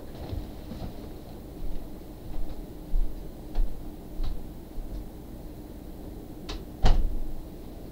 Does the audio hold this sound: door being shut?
yes